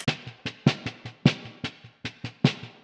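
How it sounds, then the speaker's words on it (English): A soloed snare drum track in a studio mix, fast busy pattern of crisp bright hits with accented strokes and lighter ghost notes, close and steady for about three seconds, no talk. "and then a snare track"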